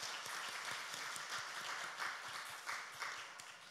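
A church congregation at Sunday morning worship claps in encouragement for a newly installed elder, a steady patter of many hands heard from a distance, fairly faint and tapering off toward the end.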